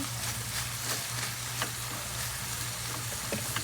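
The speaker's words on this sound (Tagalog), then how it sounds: "Isabay na natin itosta ang garlic." Garlic toasting in a hot pan, a steady, close, crackling sizzle with scattered sharp pops and a faint low hum running underneath.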